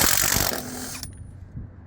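An Avhrit cordless 480 ft-lb impact wrench set on high hammers a lug nut off with a loud, dense rattling burst close by that cuts off abruptly after about a second, leaving quiet rustle.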